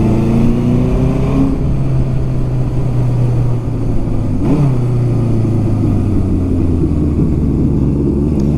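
A vintage Honda CB750 Supersport F motorcycle being ridden: a loud, close, continuous engine drone that shifts pitch around gear changes, with steady road and wind rush and no talking.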